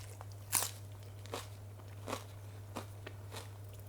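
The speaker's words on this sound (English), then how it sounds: "And the crunch of the lettuce as well." Crunchy bites into a crispy tempeh wrap with lettuce and sweet chili sauce, a few sharp close crunches spaced about a second apart over a steady low hum.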